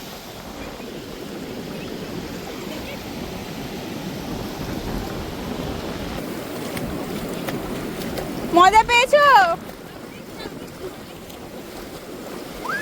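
Sea waves and gusty wind on Tajpur beach make a steady roar of surf with rough microphone buffeting throughout. A voice speaks briefly near the end.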